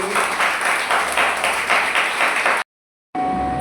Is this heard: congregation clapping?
yes